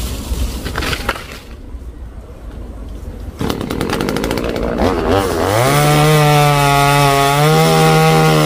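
A battery-powered chainsaw cuts into a coconut tree, starting with rough rasping bites into wood, then settling into a loud, steady high whine that holds to the end without talk.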